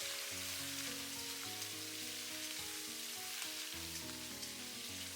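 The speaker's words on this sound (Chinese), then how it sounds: "加几滴酱油，大火煸炒一下，把瘦肉炒香、炒散、炒变色" Lean pork stir-fried over high heat with a few drops of soy sauce in a wok, a continuous bright sizzle with faint stirring under tonal background music.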